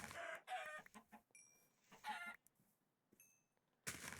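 Chickens in the video game Minecraft cluck in several short bursts, close and clear, separated by brief quiet gaps, with a final loud burst at the end.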